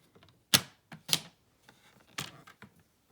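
A paper trimmer slices a card sentiment with a few sharp, close clicks and snips, spaced apart and separated by quiet handling noises.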